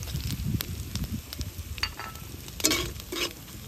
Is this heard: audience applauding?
no